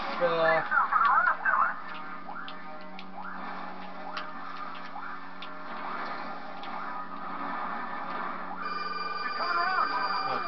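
A mobile phone rings at the end of a round of Star Wars Battlefront II, with a repeating electronic tone rising over steady game sound and narrated play.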